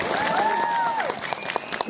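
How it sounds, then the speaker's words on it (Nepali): An audience claps loudly at a live comedy show, with dense, sustained applause that thins into scattered claps toward the end. "सबैले ताली बजाइदिनु होला हाम्रा ठाउँका लागि"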